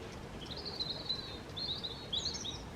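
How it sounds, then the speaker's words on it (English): Small garden birds sing and chirp in a home garden beside a bird bath, repeated high twittering phrases in short bursts at a moderate distance over steady outdoor background noise. "We like our birds in our garden, as you can hear."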